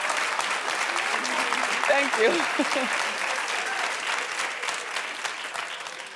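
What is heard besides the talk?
audience applause and clapping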